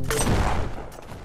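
A gunshot in the first-person shooter game Venge, a loud, close burst with a booming body that fades out over about a second, no talk over it.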